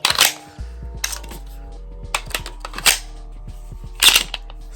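Empty magazine dropping free from a PSA Dagger pistol and its slide locking back during a function check: several sharp metallic clacks and snaps at irregular intervals, close and fairly loud, with a low hum beneath and no talking.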